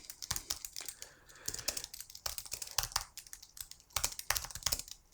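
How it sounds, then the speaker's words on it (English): Keys clatter on a computer keyboard as a title is typed in, a quick irregular run of close, crisp clicks in bursts with brief pauses, no voices present. "You'd type in your title,"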